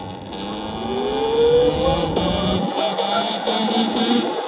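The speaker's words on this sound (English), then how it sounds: "What is this car doing?" A car drives past near a skate park with its engine revving, the rising, droning tone growing louder up close and holding as it passes.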